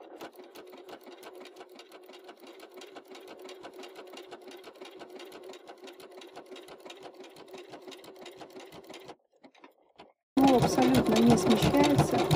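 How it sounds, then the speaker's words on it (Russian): A Family 200 Pro sewing machine stitches with a walking foot at its slowest speed, giving a steady rapid chatter of needle strokes. It stops briefly, then restarts much louder and busier for the last couple of seconds. "Теперь ту же самую строчку мы с вами проделаем при помощи шагающей лапки."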